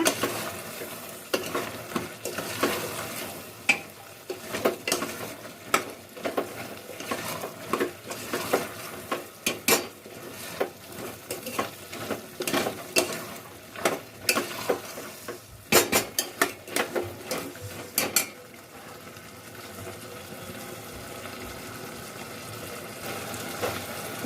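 Paneer, potato and peas stirred and mixed in a pan at home, with a spoon repeatedly scraping and clattering against the metal over a steady low sizzle. The scrapes come in an irregular rhythm, close and fairly loud, and no one speaks.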